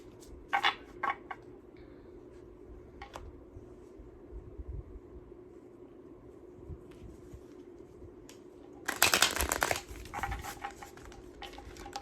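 Tarot cards are shuffled by hand in a quiet room: scattered soft taps and flicks, then a louder burst of rapid riffling near the end before it fades back to gentle rustling.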